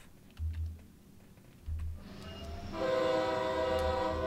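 A passenger train on the Northeast Corridor between New York and Trenton in Train Sim World 3 rumbles along, with low thumps giving way to a building mechanical whine and tonal drone as it gathers speed.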